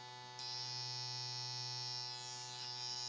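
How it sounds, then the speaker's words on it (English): A homemade EM pump device hums with a steady electrical buzz once it is switched on, a constant tonal drone that rises in brightness just after the start and holds evenly throughout. "we're going to just do the regular EM pump. Turn it on. You can hear it."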